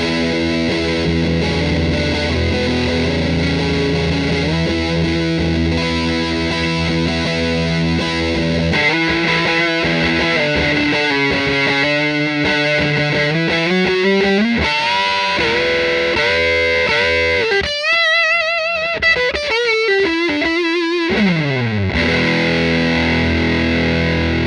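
Electric guitar through an Electro-Harmonix Deluxe Big Muff Pi fuzz, distortion and sustainer pedal with the mids section cutting lower mids: thick saturated chords, sliding sustained notes and fast high runs, loud and continuous without talk.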